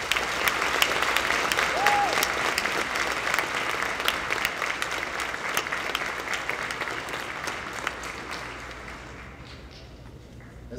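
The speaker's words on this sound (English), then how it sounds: "Graduates, please give your families a big round of applause for the love and support they've provided you thus far." A high school graduation crowd applauds at length, a dense, even roar of many hands clapping that holds steady for about ten seconds before gradually thinning and fading.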